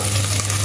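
Onion sizzles in hot oil in a pan, a brief, close, steady frying hiss over a low hum.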